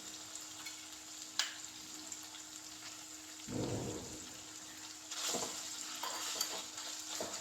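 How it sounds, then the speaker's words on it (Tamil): Chicken pieces sautéing in a pan for a chicken curry give a steady close sizzle, with louder scraping stirs near the middle and end and no voices. "இப்போ சிக்கன் கொஞ்சம் வதங்கிட்டு இஞ்சி பூண்டு பேஸ்ட் போட்டுருவோம்"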